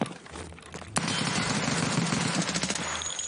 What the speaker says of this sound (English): That sounded like a full auto pistol.